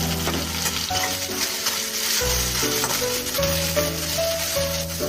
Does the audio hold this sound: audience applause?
no